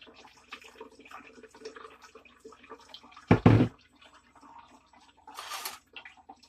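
Green juice poured into a metal strainer, a short splashing burst of liquid standing out from faint background clatter, followed later by a softer trickle.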